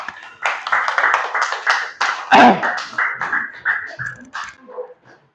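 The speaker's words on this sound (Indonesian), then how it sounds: "Tepuk tangan buat kelompok 3" A class claps for group 3, with short bursts of clapping mixed with a rhythmic group of voices chanting or cheering close by, loud and uneven before fading at the end.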